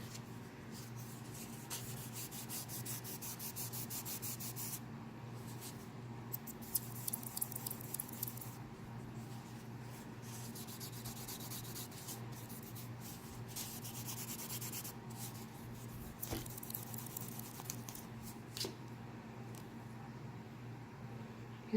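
Copper jewelry is buffed by hand, giving a quiet, continuous rubbing and scrubbing with faint scratchy strokes and a low background hum.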